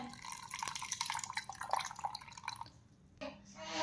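Water pours and trickles steadily for a few seconds, with scattered drips, then a brief lull before the splashing flow picks up again.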